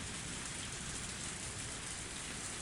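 Heavy rain pours down in a dense, steady roar, loud and unbroken throughout with no voices.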